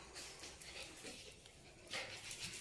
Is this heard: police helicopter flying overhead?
no